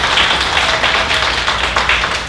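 An audience at a county library show claps loudly and steadily for a ten-year-old girl, a dense continuous round of applause throughout.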